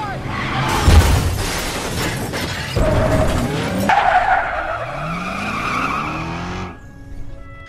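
A film car chase ends as a fleeing robbers' car loses control and crashes: loud tire skidding and squealing, a heavy impact with shattering, then grinding debris and a falling engine-like whine before an abrupt cutoff.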